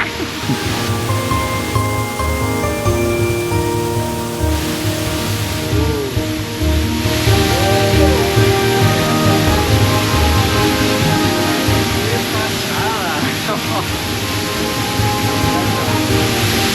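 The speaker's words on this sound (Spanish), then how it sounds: "se puede ir por detrás de la cascada." A waterfall in an Australian rainforest roars as a loud, dense, continuous rush of falling water, with no talk over it.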